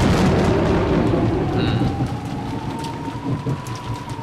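Heavy rain pours in a dense steady roar with a low rumble of thunder rolling beneath it, fading slightly toward the end, as a game sound effect in Umineko When They Cry.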